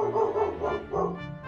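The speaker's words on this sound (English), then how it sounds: "That would be my dog." A dog barks repeatedly in a house, a quick run of about four or five woofs and yips, fairly loud and close, with no talk.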